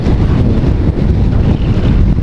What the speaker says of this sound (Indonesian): Mana anginnya kenceng banget lagi.